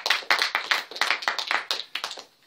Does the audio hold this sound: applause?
yes